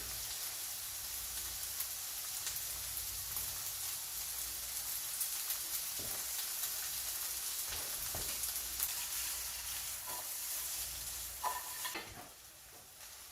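Ground turkey sizzles steadily in a hot pan, a dense continuous crackle with a few stirring scrapes near the end, close and fairly loud, with no talking.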